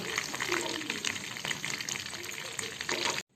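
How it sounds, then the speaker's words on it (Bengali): Chicken pieces fry in oil in a pan for a chili chicken dish, giving a steady crackling sizzle with sharp spitting pops throughout, close and moderately loud, before cutting off abruptly at the end. "এবারে চিকেনগুলো উল্টে পাল্টে ভেজে নেব।"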